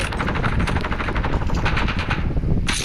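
Sustained automatic gunfire from a shooter video game with an attachment-equipped weapon, loud and continuous rapid shots filling the whole stretch, ending with a brief sharper burst.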